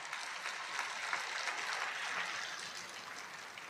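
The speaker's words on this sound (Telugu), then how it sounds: "అర్థమైతే చప్పట్లు కొట్టకుండా ఉండలేరే." A congregation claps together during a church sermon, a steady, dense wash of applause that holds at an even level for the whole moment with no voices above it.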